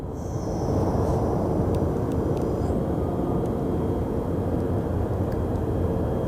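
SkyWest Embraer regional jet at Sky Harbor Airport, a steady loud broadband engine roar throughout, with a faint high whine early on and a few brief clicks.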